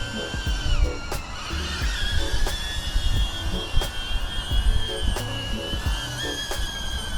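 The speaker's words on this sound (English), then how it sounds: "You put it in normal mode, bring it in, just land it like a regular old drone." A DJI Avata FPV drone flies in to land outdoors in below-freezing weather, its propellers giving a steady, close, whining buzz with shifting pitch as it slows, plus light wind noise.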